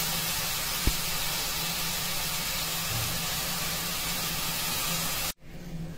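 Vegetables with spices and salt sautéing steadily in a pan for Bhogi sabji, a continuous close hiss and sizzle with no talk, cutting off abruptly near the end.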